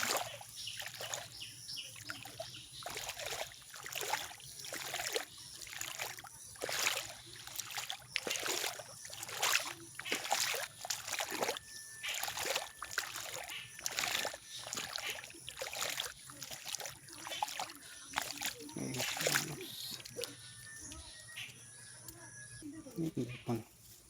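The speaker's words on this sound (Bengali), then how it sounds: "জল পুরো থই করছে" Floodwater sloshes and splashes inside a flooded house in a rhythmic series of close bursts, roughly one per second, as if someone is wading through it, with faint background chirps.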